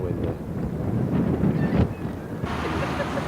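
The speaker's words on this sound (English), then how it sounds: "Canadian flag waving around in the wind there." Wind gusting around a Canadian flag flapping outside the Parliament buildings in Ottawa, a steady broadband rush with buffeting against the microphone and a brief stronger gust midway.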